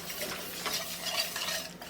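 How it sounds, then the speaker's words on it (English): A whisk stirs a ball of flour and onions in a pan on the stove for a tuna casserole, giving a steady scraping, swishing rhythm with a faint sizzle beneath, fairly close and alone without talk. "Get that whisk in there and let it start"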